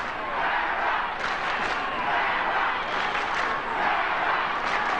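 Home crowd at a 1998 Parramatta Eels versus Manly rugby league match roaring steadily throughout, a loud, dense wall of cheering in a packed stadium with swelling surges and no clear voice standing out.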